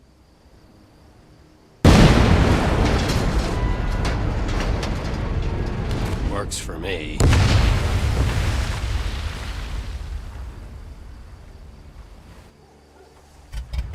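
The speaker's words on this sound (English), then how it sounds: "That explosion got the attention of all the German patrols in the area." A large explosion bursts in a World War II video game near a lighthouse, a sudden loud boom rolling into a long rumbling roar with a second blast midway, as a voice speaks briefly.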